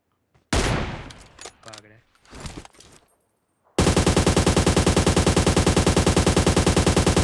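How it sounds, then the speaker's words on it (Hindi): Rapid, loud automatic gunfire in PUBG Mobile aimed at a vehicle's tyre, a steady burst of evenly spaced shots lasting several seconds, following a stretch of talk in the squad match. "उसकी गाड़ी का टायर पंचर कर रहा हूँ।"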